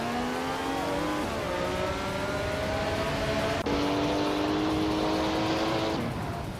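Race car engines, including a classic 1977 Porsche 936, scream off the starting line in a racing video game, with one loud, close engine climbing steadily in pitch and snapping through a sharp gear change midway.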